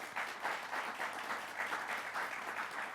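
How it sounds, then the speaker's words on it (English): An audience at a space-technology panel event at MIT welcomes the panelists with a warm round of applause, a steady, moderately soft patter of many hands clapping, slightly pulsing, with no talk over it. "Please welcome them with a warm round of applause"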